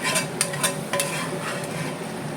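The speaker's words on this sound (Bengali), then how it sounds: "মাছটা বড় করে দিচ্ছি আর এই যে তেঁতুলের যে গ্রেভিটা আছে এটা আমি এর উপরে দিয়ে দেবো" Tamarind gravy spooned over fish in a hot pan for a Bengali Horo Gouri fish dish, a close sizzle and fry hiss with several sharp metallic spoon clinks against the pan.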